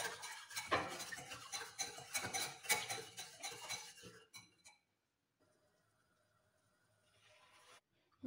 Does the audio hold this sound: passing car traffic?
no